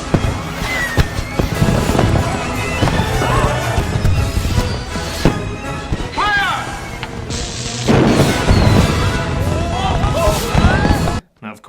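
Rapid cracks and booms of fireworks going off in dense bursts, with whistling rising tones, loud throughout before cutting off abruptly at the end, in a Yogi Bear cartoon.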